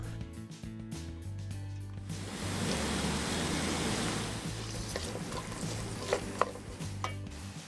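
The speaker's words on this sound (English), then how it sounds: "In this lovely, flavorful fat, sweat the onions, carrots, and the diced pork lardons." Onions, carrots and diced pork lardons sweat in rendered lamb fat, a steady broad sizzle that swells after a couple of seconds and holds close and even, with a few light clicks and scrapes near the end.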